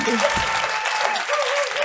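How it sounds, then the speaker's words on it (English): A conference audience applauds for the stage panelists, a brief burst of clapping with shouts and voices mixed in throughout. "So if you would do a proper rock star applause for the stage panelists now."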